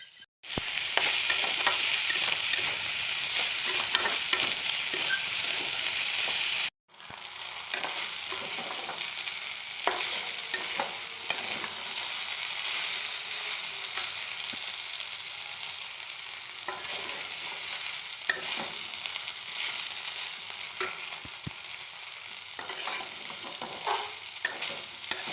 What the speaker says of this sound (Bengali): এবার ফুলকপি ভাজাতে একটু তেল বেশি লাগবে।